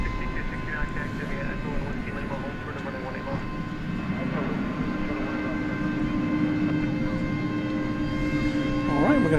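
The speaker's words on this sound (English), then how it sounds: "pull back for the departure, I think. Of this MD-11 going to Louisville." An MD-11 jet departing DFW Airport at night, a broad steady engine roar with a sustained whine that grows louder toward the end, heard from a distance with some background voices.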